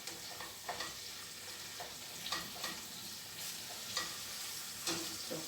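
Saltfish frying in a pan with garlic, onion and green sweet peppers, a steady close sizzle broken by occasional stirring scrapes, with no talking.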